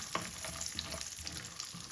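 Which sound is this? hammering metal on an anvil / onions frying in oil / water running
onions frying in oil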